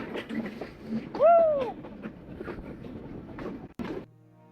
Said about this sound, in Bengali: এখন আমি আর আমার দোস্ত ট্রেনে উঠে পড়েছি